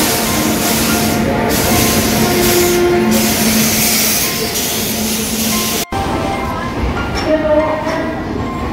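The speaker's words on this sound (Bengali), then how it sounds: "সমলেশ্বরী এক্সপ্রেস আস্তে আস্তে অ্যাপ্রোচ করছে বন্ধুরা" The Samaleswari Express, hauled by a WAP-7 electric locomotive, approaches slowly through the Eastern Ghats hills of Odisha, making a loud, steady rumble with a faint tonal hum that drops away briefly before resuming.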